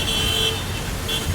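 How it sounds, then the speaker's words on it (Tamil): Heavy road traffic in Bengaluru rumbles steadily close by, with a sustained car horn sounding twice in short blasts above the engine drone. "ஆனால் ஹெவி டிராஃபிக் தான்,"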